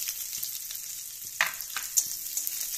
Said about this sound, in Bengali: তেজপাতা দিয়ে দিলাম একটা ছেড়ে, দিয়ে কেটে রাখা পেঁয়াজ ওর মধ্যে দিয়ে দিলাম।